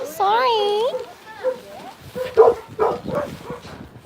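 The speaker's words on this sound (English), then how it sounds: "Oh no, you're barking at me." A small animal lets out a few short, high yips and whimpering barks up close, followed by softer choppy sounds.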